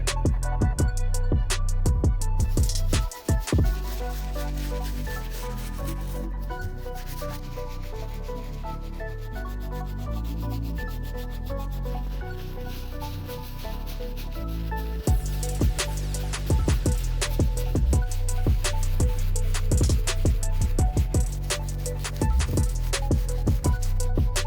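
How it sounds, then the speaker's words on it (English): A medium bristle brush scrubs the plastic parts of an Air Jordan 5 Fire Red sneaker during cleaning, producing continuous close rasping strokes with a brief pause and then renewed rapid scrubbing throughout. "There's a couple spots like up here in the plastic that we're gonna hit with the medium bristle brush"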